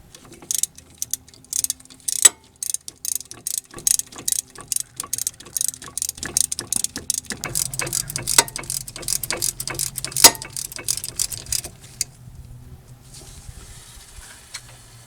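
A ratchet tightens a front brake caliper bolt on a 2006 Mazda 3, making quick, crisp clicking bursts in rapid rhythmic strokes. The clicks are close and distinct, with a brief softer rumble partway through and no talking.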